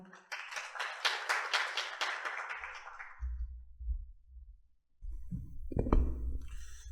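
Brief audience applause welcomes the city mayor of Asan, South Chungcheong, at a vision proclamation ceremony. A burst of clapping runs about three seconds, then fades into low rumbling stage noise and a voice at the end.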